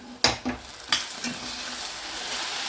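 Half an onion goes into a hot pan and fries, with a few loud scraping knocks of stirring at first, then a continuous, even sizzle close by.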